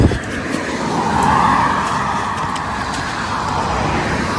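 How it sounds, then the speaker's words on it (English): Cars pass on a road over a river bridge in Norwich, Norfolk, on a snowy day: a loud, close, continuous roar of tyres and engines with one vehicle swelling by, and no talk. "that's going to be a bit noisy obviously with the cars and stuff"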